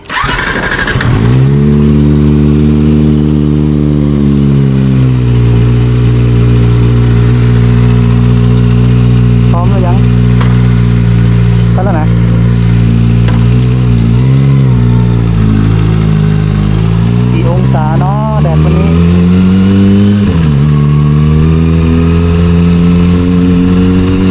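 A Kawasaki ZX25R motorcycle ridden on a hot day out, its loud, close engine droning steadily while the pitch rises and dips through revs and gear changes.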